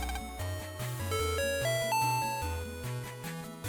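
Chiming electronic doorbell jingle from the Mega Man Battle Network 5 video game, a bright synthesized melody of stepped tones over a bass line, heard alone without voices.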